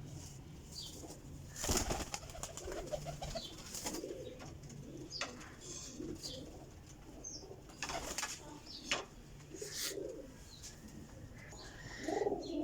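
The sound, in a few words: Sialkoti pigeons cooing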